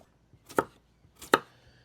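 Two crisp, close knife chops cut through cucumbers on a board above a bowl, evenly spaced and alone in a quiet room.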